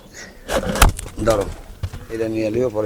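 Pigeons coo in a loft holding many birds, soft low throaty calls close by, mixed with a sharp knock and nearby voices talking over them.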